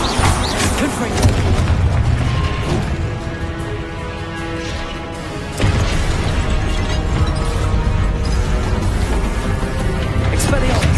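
Confringo fire spell blasts in Hogwarts Legacy, a dense, loud run of booming bursts under constant game music and noise, with a fresh surge of impacts midway through.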